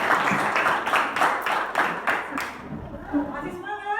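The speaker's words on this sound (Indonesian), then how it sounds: "Yemima. Tepuk tangan." Students in a classroom clap together in a rhythmic burst for about two and a half seconds, then the clapping stops and a voice speaks briefly afterward.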